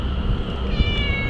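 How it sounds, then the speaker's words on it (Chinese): A cat meows once, a clear, close cry over low outdoor rumble on a mountain trail. "小猫"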